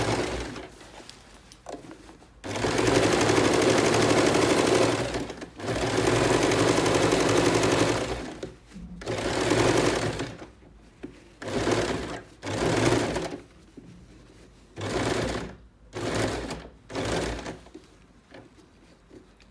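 An electric sewing machine runs double stitching along a pant waistband belt in long whirring runs, then shorter stop-start bursts separated by pauses, loud and close.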